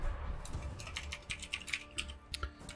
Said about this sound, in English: Sometimes typing things as I speak instead of what I'm meant to type.